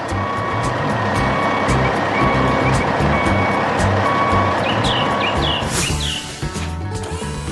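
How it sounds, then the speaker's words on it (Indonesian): An animated yellow dump truck loaded with soil drives toward an empty pool, its engine rumbling loudly with a steady reversing-style beep and a few chirping tones near the end. "Truk kuning itu sekarang menuju ke kolam kosong tadi"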